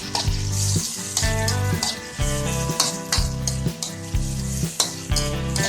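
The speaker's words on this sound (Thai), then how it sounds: "เราจะผัดเครื่องแกงให้หอมก่อนนะครับ" Thai curry paste, freshly pounded, fries in a pan for a Trat-style pork curry with chamuang leaves, giving a steady close sizzle with stirring scrapes throughout.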